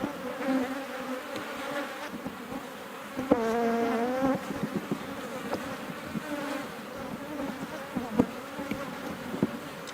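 Honey bees buzz around an open hive during a hot-weather inspection, a dense close droning hum with individual bees whining past, one loud pass midway, over faint handling clicks.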